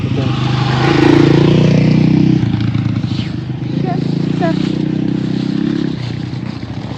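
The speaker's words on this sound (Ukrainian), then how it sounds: "А мотоцикли приїхались" Motorcycles arriving in a forest, engines revving and rumbling loudly nearby with a rise and fall in pitch, while people talk over the noise.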